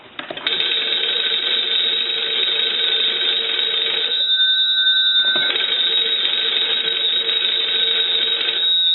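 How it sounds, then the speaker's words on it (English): A hand-cranked magneto telephone bell box rings loudly and continuously, its metallic bell clatter briefly changing pitch midway before resuming steadily to the end. "when we crank the magneto on this bell box, we will be lighting this light and ringing this bell box's bell"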